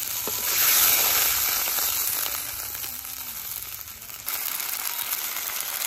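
Onion and green chilli frying in a pan give a steady, close hiss of sizzling that bursts louder as a little water is added, then settles into a softer sputter. No one speaks.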